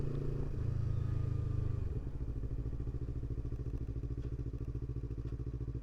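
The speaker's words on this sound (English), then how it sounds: "you'll see me downshifting at a stop sign or a stoplight pretty much all at one time" A Yamaha R3 motorcycle downshifts while coming to a stop, its engine note dropping from a steady drone into a lower, choppy idle-like rumble, heard close and loud with no talk.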